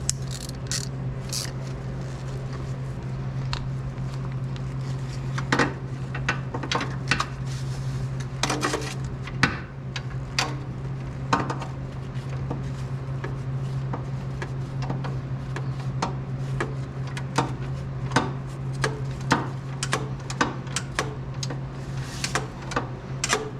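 A wrench works on a 2001 Miata 6-speed transmission during removal, giving scattered metallic clicks and ratchety taps over a steady low hum, spread out and irregular across a long stretch with no voices.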